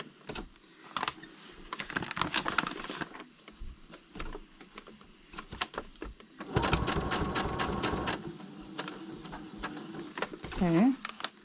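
A sewing machine runs a straight stitch through paper in two quick, close bursts of rapid needle clatter, separated by a short pause. Someone talks between and over the stitching.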